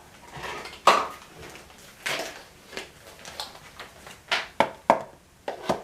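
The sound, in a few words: rummaging among kitchenware to fetch a funnel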